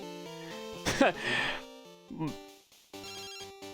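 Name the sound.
phone ringing in Pokémon Crystal video game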